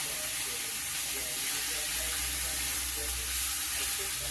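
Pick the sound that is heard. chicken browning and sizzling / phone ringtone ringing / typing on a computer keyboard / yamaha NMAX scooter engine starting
chicken browning and sizzling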